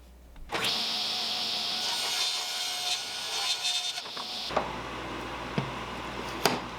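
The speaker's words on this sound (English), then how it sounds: "we're going to rip it down on the table saw to 7 and 1/8 to account for the sides" A table saw rips a wood board lengthwise, a loud steady whine and cut lasting about four seconds, then the blade runs down with a few knocks of wood being handled.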